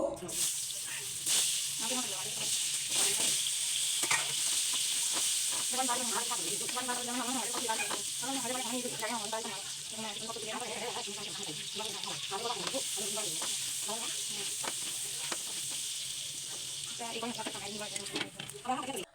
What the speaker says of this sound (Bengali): ডিম ভাজা হয়ে গেলেই আমি আলুগুলো ভেজে নিব